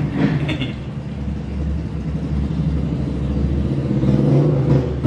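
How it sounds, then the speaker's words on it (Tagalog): A steady, rumbling small tricycle engine drones nearby, growing slightly louder toward the end as it passes, with no talking. "Ang ingay ng tricycle."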